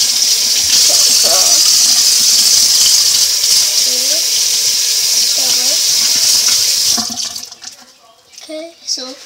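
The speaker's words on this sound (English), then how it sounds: "I'm gonna wash my hands at the kitchen" Running tap water at a kitchen sink while hands are washed, a steady broad gush that fills most of the stretch before cutting off, with faint voice sounds underneath and a few clattering noises after the flow stops.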